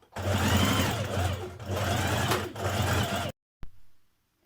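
A sewing machine runs in three long bursts, stitching the side seams of smart trousers with a 1.5 centimetre seam allowance, close and steady, then stops with a short clunk.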